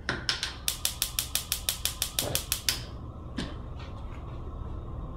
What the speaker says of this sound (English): We're gonna crank up the stove here.